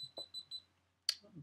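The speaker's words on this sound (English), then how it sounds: "Something's beeping." Four short, evenly spaced electronic beeps sound in quick succession, fairly faint, followed by a brief sharper click or knock; no one talks.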